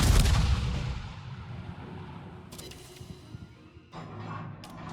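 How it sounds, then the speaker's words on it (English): Depth charges explode in a naval video game, a deep booming blast up front that fades into a rumbling tail, followed by further softer detonations and splashes, no talk. "Try to drop some depth charges on him while I'm reloading"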